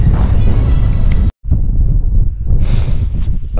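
Strong wind at a wild camping spot in the North Pennines, buffeting the microphone as a loud, low roaring rumble with gusts, briefly cut out before resuming.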